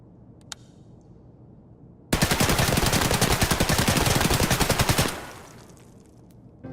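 Sustained full-auto burst from an M4 rifle in Escape from Tarkov, about three seconds of rapid, evenly spaced shots at close range, then a fading tail into quiet.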